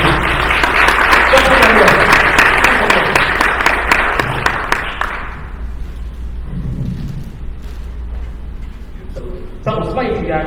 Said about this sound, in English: Give me a round of applause, please.